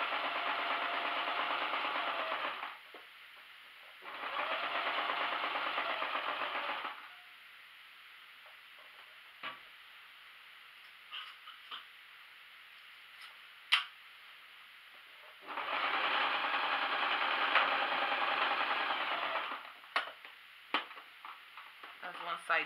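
A sewing machine stitches fabric for a circular top in three bursts of rapid whirring, each lasting a few seconds, with short pauses and small clicks between them, as if running forward and backstitching.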